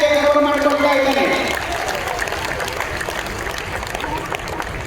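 Audience applause at a large Lingayat gathering on Bengaluru's palace grounds, a dense, fairly loud clapping crowd that follows a voice in the opening second and continues steadily to the end.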